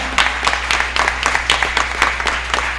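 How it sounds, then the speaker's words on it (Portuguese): Rhythmic applause at a church service: a congregation clapping together in a steady, quick beat, fairly loud and continuous throughout. "Dê uma salva de palmas ao Senhor."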